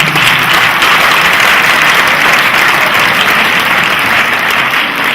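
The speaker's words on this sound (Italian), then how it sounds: "Facciamo un altro applauso a questa." Loud, steady applause from a large theatre audience at a Neapolitan variety show, a dense continuous wash of clapping with no breaks.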